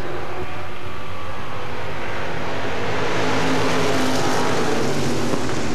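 Street stock race cars thunder around the oval at Smoky Mountain Speedway, a dense, roaring pack of engines that swells louder over several seconds as the field passes close.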